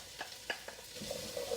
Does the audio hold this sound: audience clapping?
no